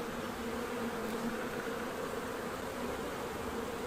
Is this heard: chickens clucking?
no